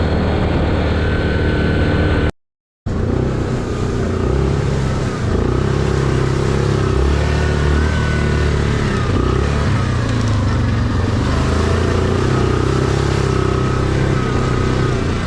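A Yamaha Grizzly SE ATV engine drones steadily on pavement during a test ride, with the pitch rising and falling as it rolls along and one short dropout near the start.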